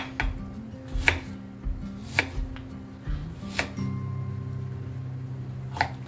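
A knife slices through a fairly large piece of ginger on a board, making sharp, evenly spaced chops roughly once a second, close and clear over a low background hum.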